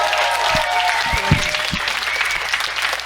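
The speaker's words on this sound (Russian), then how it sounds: "Правда, эти аплодисменты, они очень приятные" Stand-up comedy audience in a bomb shelter in Sumy applauding, a steady rattle of many hands clapping at moderate loudness, with a few low thumps and faint tonal murmurs underneath.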